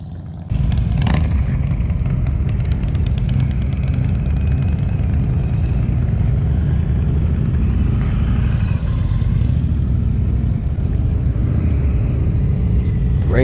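A heavy 900 lb motorcycle rumbles steadily as it is ridden and leaned through a practice course in the rain, the engine droning with slight swells, fairly close and without talk.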